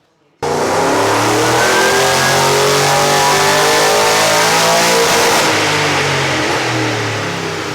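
A Holden Monaro with an LS1 V8 and Harrop 2300 supercharger revs hard on a rolling-road dyno, a loud, sustained climbing engine roar with rising harmonics that bursts in after a brief silence and holds to the end, no voices.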